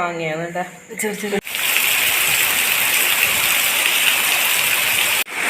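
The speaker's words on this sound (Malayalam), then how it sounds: "കാറ്റും മഴയും കാറ്റും മഴയും" Heavy rain driven by wind makes a loud, steady rushing roar close by, starting abruptly after a brief voice and running unbroken until a short cut near the end.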